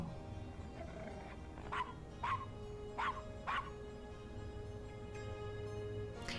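A dog barks four times in a steady spaced series within the point-and-click adventure game Gabriel Knight: Sins of the Fathers, the yips moderately loud over a quiet ambient game background.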